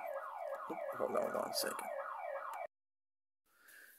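A neighbor's alarm wails in a fast, repeating siren-like sweep for a few seconds, fairly loud, then cuts off abruptly into silence before faint noise returns; someone speaks briefly over it.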